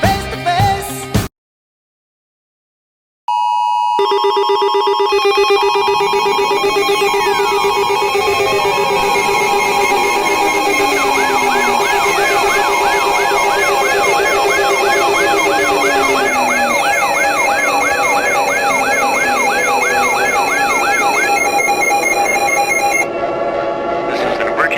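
An Emergency Alert System alert tone for a White House emergency action notification: after a short silence, a loud, steady two-tone drone holds for about twenty seconds, layered with warbling and sweeping siren-like tones.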